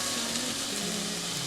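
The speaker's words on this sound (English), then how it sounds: "I like to get all my potatoes laying really flat on the surface of the frying pan" Potatoes spread flat in a frying pan over high heat give off a steady, dense sizzle and crackle, close and continuous, with no talking.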